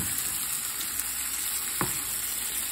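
Liver fries in a pan with a steady, close hiss of hot fat, broken once by a brief scrape of a utensil.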